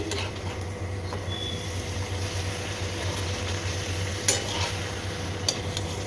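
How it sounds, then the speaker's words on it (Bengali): Triangular luchi fry in a mix of ghee and cold-pressed oil, giving a steady, close sizzle with a low bubbling hum and a couple of faint clinks. "তো দেখো ত্রিকোণ লুচি ভেজে নিচ্ছি।"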